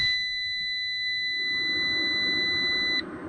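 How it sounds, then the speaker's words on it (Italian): A camper's power inverter gives a loud, steady high-pitched electronic beep, holding continuously for about three seconds over a low hum, then cutting off abruptly. "hai sentito anche il mega beep degli inverter"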